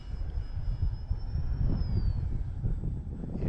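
An E-flite Valiant RC plane on a 2700 mAh 3S battery flies overhead, its electric motor giving a steady high whine that rises and drops in pitch over a low wind rumble.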